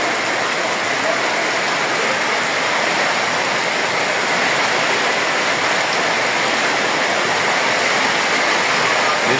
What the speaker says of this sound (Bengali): বৃষ্টি বাড়তেই আছে, বাড়তেই আছে।